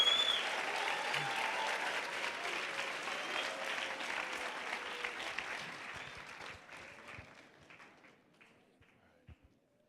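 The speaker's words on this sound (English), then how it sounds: "Please cheer on Bill as he takes on 2 other contestants on the Wheel of Fortune" A middle school Veterans Day assembly audience claps steadily for a contestant, with dense sustained applause and scattered cheering. The clapping thins and fades toward the end, leaving a few isolated claps.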